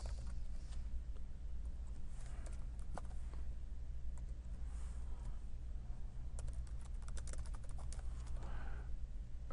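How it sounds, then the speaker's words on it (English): Keys clatter on a computer keyboard as text is typed into an HTML form, an uneven run of soft clicks that thickens into a quick burst near the end, steady over a low background hum. "I'll type some crazy text here"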